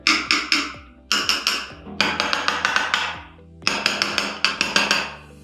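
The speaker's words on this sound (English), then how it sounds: "you just test to see how loose the tiles are, whether the tiles are what you call drummy," Floor tiles tapped with a hard tool to check for loose, hollow-sounding spots, bursts of three to five sharp ringing knocks separated by short pauses, close and clear with no talking.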